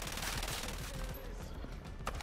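Gunfire in Ghost Recon Breakpoint crackles as a dense, continuous fusillade of rapid shots at moderate distance, with a few sharper reports standing out near the end.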